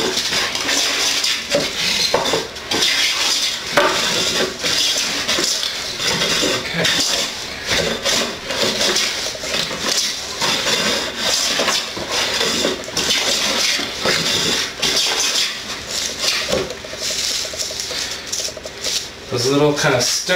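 Hand plane thicknessing an uneven wooden board by hand, with continuous close rasping strokes that stutter and catch on high spots near a knot.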